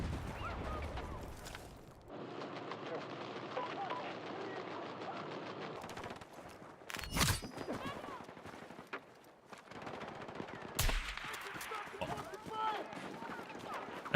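Sniper rifle shots from a video game, a PSR, crack out in a few sharp bursts between stretches of steady game ambience, with a player talking over parts of it.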